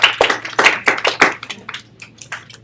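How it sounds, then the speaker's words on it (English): A classroom of students claps for a classmate in a quick burst of sharp, close handclaps that thins out and fades into scattered claps. "Everyone give her the model clap."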